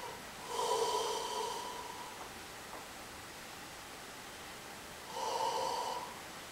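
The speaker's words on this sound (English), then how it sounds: "you'll start yawning" Two long, breathy human yawns, soft and close, with a quiet pause between them over a faint hiss.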